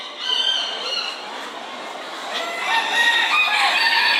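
Chickens at a poultry show with large fowl and bantams, several birds crowing and clucking together in a busy, moderately loud chorus with overlapping calls.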